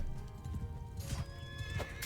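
Horse hooves clop steadily in a medieval Viking-era battle video game, with whinnies and neighs breaking through, close and fairly loud over a busy game soundscape.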